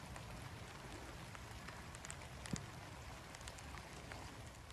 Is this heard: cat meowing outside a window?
no